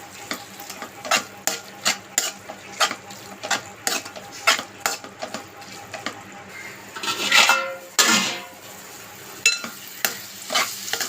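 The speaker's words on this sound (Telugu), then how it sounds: "ఇప్పుడు దీంట్లో కొద్దిగా కారం వేసుకుందాం ఇలా కలుపుకోవాలండి" Amaranth leaf curry stirred in a pan after chili powder goes in: a steady run of spatula scrapes and clinks against the metal, close and rhythmic, with a louder burst of sizzling partway through.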